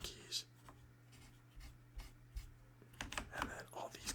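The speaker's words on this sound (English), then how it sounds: "Just dust off the keys that we didn't take off yet" Light brushing and scratchy strokes across computer keyboard keys while dusting them during cleaning, soft, close and intermittent, growing busier toward the end.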